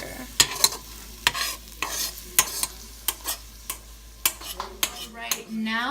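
Spoon stirring shredded beef for ropa vieja in a pot, with a steady faint sizzle under a run of sharp metallic scrapes and clinks against the pot, close and loud, with no talking.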